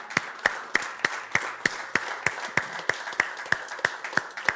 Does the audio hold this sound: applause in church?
yes